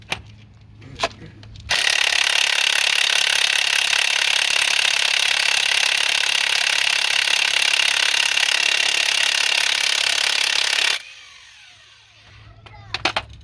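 A DeWalt 18-volt DW059 cordless impact driver loosens a 22 mm bolt during timing belt and water pump removal on a Toyota Sienna: one loud, steady hammering burst of about nine seconds, with brief knocks before and after.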